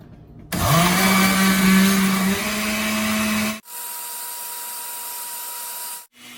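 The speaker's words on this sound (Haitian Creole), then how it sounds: "Tout ingrédients au blender ensemble." A kitchen blender whirs loudly as it purées ingredients, including egg, for a banana hair treatment, running steady for about three seconds before shutting off, followed by quieter appliance hum.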